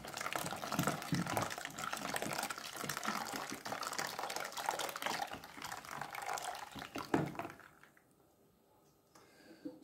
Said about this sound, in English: So now I will be adding hot water.